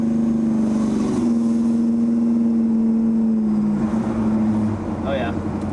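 A 1971 Chevrolet Chevelle engine runs loud and close under light throttle, its steady droning tone holding and then dropping in pitch as the revs ease.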